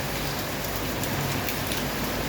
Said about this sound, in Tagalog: Grabe, panay ang ulan dito sa Baguio City pa rin ito.